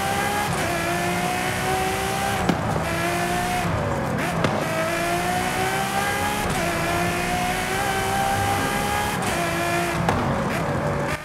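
A 2015 Ferrari F12TDF with a V12 engine, driven in the racing game Forza Horizon 5, revs loud and close through repeated climbs in pitch with brief drops at gear shifts, with faint tire squeal and no talk.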